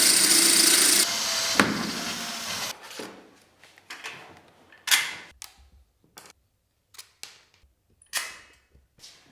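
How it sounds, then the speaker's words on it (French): A drill bit bores holes in a wall in short, loud bursts: a sustained whirring run first, then several brief separated stabs with quiet gaps between them. "Fais-y les trous avec le foret approprié."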